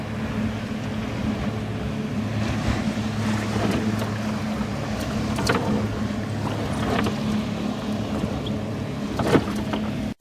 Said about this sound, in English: One of the ocean rafting boats, Big Fury.